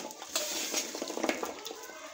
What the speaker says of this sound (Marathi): म्हणून मस्तपैकी आपण हे हलवून घेऊ